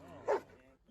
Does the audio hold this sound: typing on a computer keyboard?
no